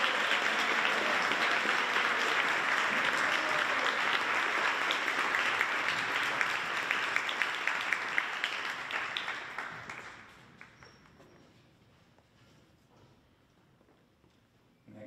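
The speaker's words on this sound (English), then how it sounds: "And you can clap. Please clap." Audience applause for a graduating senior at a high school spring band concert, a dense crowd clapping loudly for about ten seconds before fading to a few scattered claps and near quiet.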